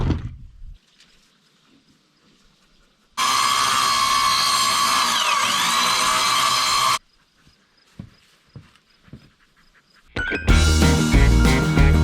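A loud power saw cutting wood boards for a backyard duck coop, one continuous close whine lasting several seconds, then quiet handling knocks before another loud burst starts.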